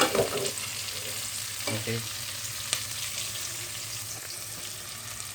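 Garlic and onion sizzle in a hot pan while being stirred for pakbet, a steady frying hiss with a few scraping stirs near the start and a brief spoken word.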